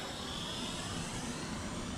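Sanrock X105W quadcopter drone, a Bugs 3 Pro clone, flying forward at high rate, giving a steady, continuous whirring rotor hiss without breaks and no talk over it.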